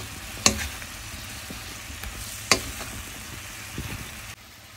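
Broccoli crisping in a hot pan sizzles steadily, with two sharp stirring scrapes against the pan a couple of seconds apart, close and fairly quiet, with no talking.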